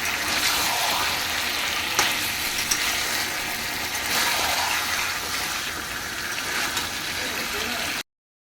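Duck meat sautés in hot oil in a home kitchen, giving a continuous hissing sizzle that holds at a fairly even level throughout, with faint talk in the background.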